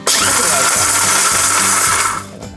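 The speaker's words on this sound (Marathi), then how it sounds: "जे मिक्सरचं बटन आहे ना ते सरळ न फिरवता उलट फिरवायचं आहे" A kitchen mixer grinder whirs in short, loud pulses while chopping chillies, a rough motor drone that cuts off near the end.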